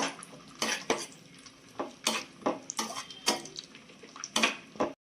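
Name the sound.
cashews and raisins frying in ghee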